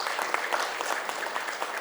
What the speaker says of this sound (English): So, a big round of applause for our panelists.